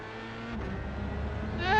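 A Dallara F3 race car engine in iRacing climbs steadily in pitch as throttle is fed in, a smooth, moderately loud whine rising toward the end with no voices.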